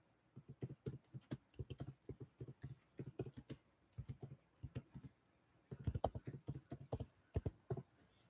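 Fingers type on a computer keyboard in a kitchen, with quick bursts of close, crisp key clicks separated by short pauses and no talking over them.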